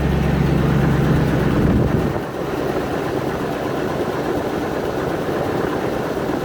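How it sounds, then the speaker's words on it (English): A 1994 Range Rover engine idles steadily, a low rumbling drone that drops slightly in pitch and settles into a calmer, even idle after about two seconds. "it's settled down to a fairly calm idle now"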